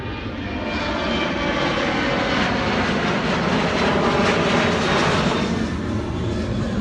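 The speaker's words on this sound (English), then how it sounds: "Got another plane passing above." An airplane passes overhead at a roller coaster park, a loud broad engine roar that swells and holds steady before easing slightly at the end, with no talk.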